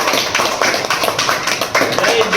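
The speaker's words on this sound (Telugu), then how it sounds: "క్లాప్స్." Clapping at a local BJP party meeting in Gudipalli mandal, Kuppam constituency, marking a unanimous election, fills the clip as a dense, steady patter of many hands from start to finish.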